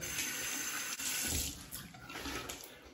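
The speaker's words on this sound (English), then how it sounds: "Rinse the face with warm water and then cold water." Running tap water pours steadily into a sink with brief splashy changes as hands rinse a face under the flow during a shave, close and continuous.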